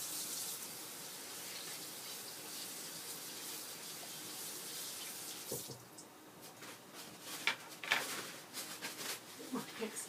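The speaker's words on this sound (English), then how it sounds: "It's important to wash your hands because you never know what kind of germs or anything what's on your hands" Hands scrubbed with antibacterial soap under a running faucet, a steady wash of water that breaks into splashes and rubbing near the end, with a voice talking over it.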